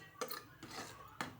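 Spoon stirring rice kheer with ground cardamom in a pot, three soft metallic scrapes and clinks spaced apart, faint and close.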